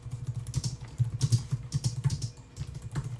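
Python code is typed on a computer keyboard in quick, uneven bursts of close clicking keystrokes, pausing briefly near the end, with no talking.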